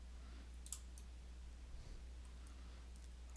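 A computer mouse button clicked while working in site lighting design software, giving a few faint, sharp clicks over a steady low hum.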